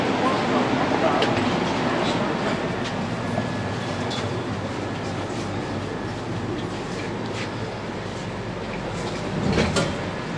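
A Delhi Metro train hums and rumbles at a station, with a broad steady roar and a swell near the end, while voices talk faintly in the background.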